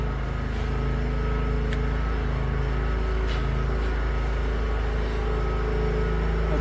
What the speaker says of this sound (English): Johnny Lawnmower is next door.